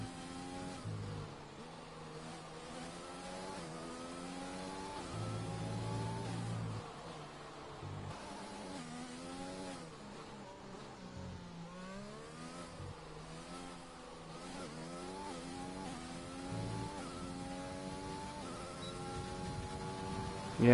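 A Mercedes race car in a racing video game runs an out lap, its engine droning steadily throughout with repeated rising and falling revs as it shifts through gears, loud and continuous with no talk over it.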